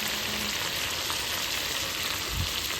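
Chicken stir-frying with southern Thai curry paste in a pan, a steady broad sizzle running throughout with a soft low knock near the end, no voices.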